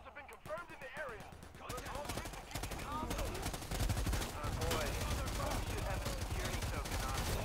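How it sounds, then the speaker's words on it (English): Steady rattling fire from a light machine gun in Predator: Hunting Grounds, continuous and fairly close, mixed with voices talking over it. "Never tried out this light machine gun."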